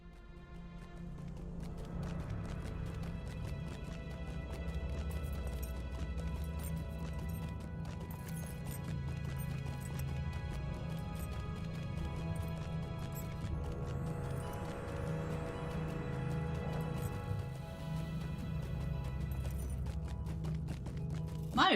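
Hoofbeats from a goat mount in a Lord of the Rings Online-style video game set in the dwarven halls of Moria. The clip-clop is steady and continuous, heard with the game's music and ambience and no talking.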